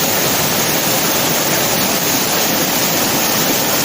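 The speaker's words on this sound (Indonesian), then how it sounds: "Ada 7 air terjun yang berada di" Waterfall at Batang Taye in Silokek, West Sumatra, a steady loud roar of falling water with broad hissing spray, continuous and close, no voices.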